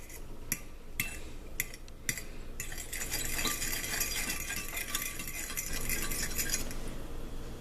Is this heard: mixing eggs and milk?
yes